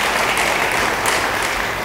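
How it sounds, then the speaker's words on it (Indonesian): A church congregation claps together in dense, sustained applause that fills the room evenly and loudly for a couple of seconds, with no speech over it. "Yang percaya, beri tepuk tangan bagi dia."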